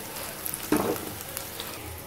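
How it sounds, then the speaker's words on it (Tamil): Mutton chops added to a pan of sautéed onions for a gravy, frying over medium flame with a soft, steady sizzle and a brief louder burst of crackling near the start, close and alone. "சாப்ஸ் இப்போ ஆட் பண்ணியாச்சு, மீடியம் ஃப்ளேமில் வச்சு கொஞ்சம் நேரம் இதை நல்லா கொதிக்க விடலாம்"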